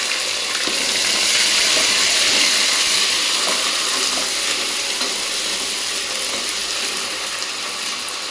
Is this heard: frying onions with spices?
yes